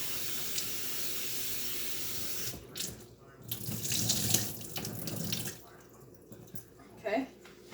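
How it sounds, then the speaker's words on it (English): Cut potatoes rinsed under a running kitchen tap: a steady hissing stream of water that swells louder and splashier midway as the potatoes are moved under it, then settles back to a softer flow. "I'm gonna rinse them off again."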